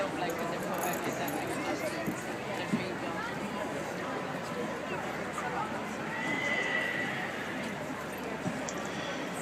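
Horses whinny and hooves clip-clop at an Irish Sport Horse stallion parade at the RDS Dublin Horse Show, a steady busy crowd-and-hoof bed with occasional neighs, a loudspeaker commentator talking over it.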